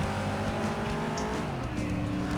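A race car in the FlatOut video game drives at speed, a loud continuous engine drone with tire noise and a steady roar, no talking.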